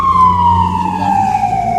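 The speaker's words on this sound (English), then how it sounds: "Ambulance goes by." An ambulance siren sweeps past outdoors, loud and close, its wailing tone sliding steadily downward as the vehicle goes by over a low engine rumble.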